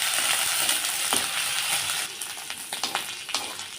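Onion, green chilli and ginger paste fry in hot oil with a steady sizzle, joined in the second half by scraping stirring strokes and small clinks, close and unaccompanied by speech.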